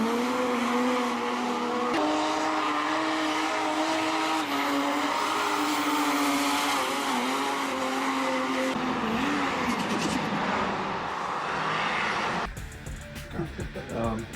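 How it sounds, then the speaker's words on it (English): A diesel drift car revs hard with a loud, continuous engine roar and sustained tire squeal, sliding close by for the whole stretch before the sound breaks up into rougher bursts near the end. "Insert video of diesel drift car."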